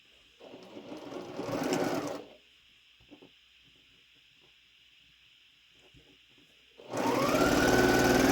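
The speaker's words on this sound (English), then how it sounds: "we'll sew this together" A sewing machine stitches quilt pieces together for a star quilt: two loud, steady whirring runs of rapid needle strokes, separated by a quiet pause with faint handling clicks.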